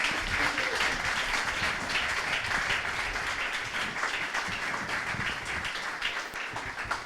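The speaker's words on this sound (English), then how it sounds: "big round of applause" An audience at a space-industry event's opening ceremony applauds the organizing team on stage, sustained dense clapping that stays loud and even throughout, with a faint voice underneath.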